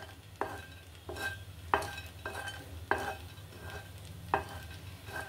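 A spoon stirs a phirni rice pudding mixture of milk in a pan, giving regular scraping strokes roughly every half second over a steady low hum, with no voices.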